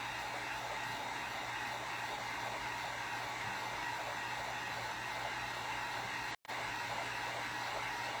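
A hair dryer blows steadily on a homemade glass block craft, a loud constant whoosh with a low motor hum that cuts out for a split second near the end, then resumes.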